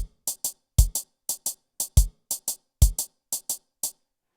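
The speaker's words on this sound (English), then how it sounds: "So the kick is going to be on the 1 and 2," Programmed kick drum beat landing on counts one and two of each bar, crisp and loud, repeating in a tight even rhythm alongside short clicky hits, with no voices.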